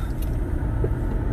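Heavy road traffic on EDSA, with buses and private vehicles making a steady, loud rumble of engines and tires close by.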